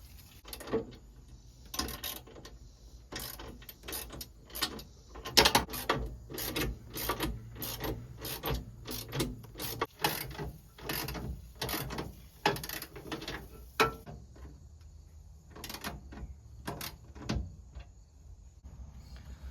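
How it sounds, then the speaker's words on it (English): Ratchet and Allen wrench working on the swivel seat bolts inside an E350 van conversion, giving a steady run of sharp metallic clicks and clacks at close range with no talking. "You're definitely going to want an Allen wrench to hold the top of this while you use a ratchet on the bottom."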